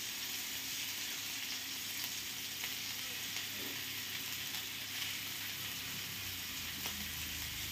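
Halved, crushed bamboo shoot roasting on a hot griddle in a Konkan village kitchen, giving a steady low sizzle and crackle with faint ticks throughout, no talking.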